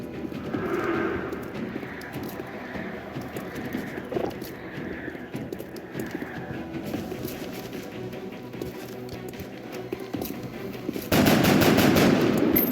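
Rapid gunfire in the video game LWR, with scattered shots through the clip and a loud, dense burst of fire near the end, heard without talk.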